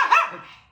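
A single short dog bark, fairly close, ending quickly with a fading tail.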